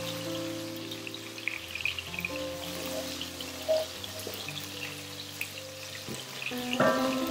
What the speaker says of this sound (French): Juste question de faire juste frire un peu, mais que ça ne crame pas